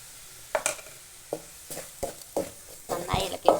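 Coriander powder is stirred in a pan for kadala curry, with a soft sizzle broken by several sharp, uneven spoon scrapes and clicks against the pan, close and moderately loud.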